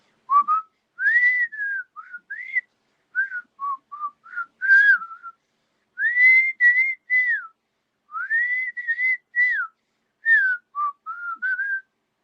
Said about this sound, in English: I can whistle it right now.